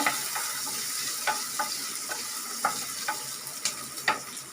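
Chutney ingredients with tamarind sautéed in a pan over a low flame, giving a quiet, steady sizzle broken by soft, irregular scrapes and clicks from stirring.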